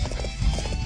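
Quick, rhythmic clip-clop of a galloping horse's hooves in Dynasty Warriors 8, close and steady with evenly spaced beats over a low rumbling background.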